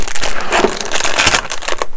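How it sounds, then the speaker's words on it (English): Plastic packaging crinkles loudly and continuously up close as black parts, including a swing arm, handlebar tops and a radiator, are unpacked. "These are the apologies for the crinkling."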